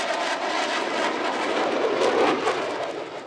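U.S. Air Force Thunderbirds warplanes fly over a Maine air show, making a loud, steady jet roar that swells and then slowly fades, with no voices.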